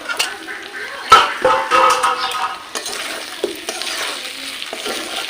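Mutton curry with poppy seed paste being stirred and fried in a pan, steady sizzling with intermittent scraping strokes of a spoon, close and moderately loud, no talk.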